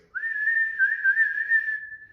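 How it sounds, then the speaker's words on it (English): A steady, high-pitched whine holds at one tone with slight wavering, clear and continuous, the whistle of a ProCharger supercharger on a car engine, with no talk over it. "just the whistle of that Procharger"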